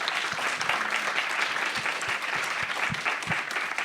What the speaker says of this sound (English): So just another applause.